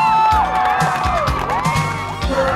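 Crowd cheering and whooping at a high school football game in Burnsville, with steady loud cheers and shouts swelling and falling throughout.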